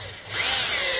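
A power drill snugs bolts into a storage rack for kayaks, SUPs and canoes. One short, loud burst of the motor whirs up close and holds steady.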